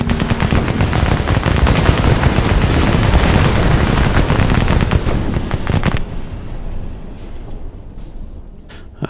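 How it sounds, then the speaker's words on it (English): Rapid explosions and gunfire-like blasts rattle loudly during a bombing run in the naval war game Battle Fleet 2, a dense barrage that stops abruptly and trails off into quiet. "I think this time I'll try really a centered bombing run."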